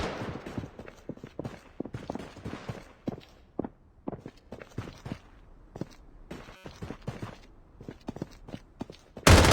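Rapid bursts of gunfire in the Blood Strike solo battle royale game, a dense run of sharp repeated shots crackling across the whole stretch, some close and loud, others lighter, with no talk over it.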